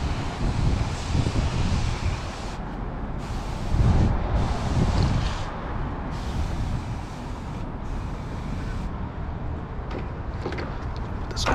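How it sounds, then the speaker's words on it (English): Wind gusts buffet a microphone outdoors during a rinseless car wash, a steady rumbling roar that swells and eases, with occasional brief hisses cutting through. "you can see it's windy out here, so it's blowing them off"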